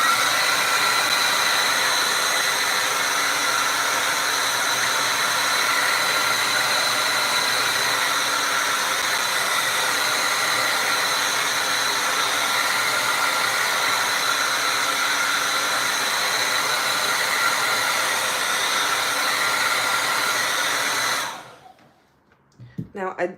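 A hair dryer runs steadily for about twenty seconds drying acrylic paint on a cat painting, loud constant whooshing hum, then cuts off abruptly near the end.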